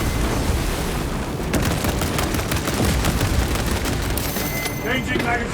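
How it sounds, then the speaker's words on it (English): A frag grenade blast in the video game Space Marine 2, with loud booming bursts mixed into rapid, dense gunfire and battle noise, while voices talk over the din. "Frag grenade deployed"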